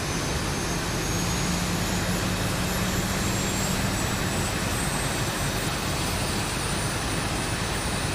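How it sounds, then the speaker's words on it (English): Boeing 737 jet engine starting up in X-Plane 11, heard from outside the aircraft as a dense, roaring broadband wash with a rising turbine whine, loud and continuous throughout. "we'll go outside to have a listen as it starts up"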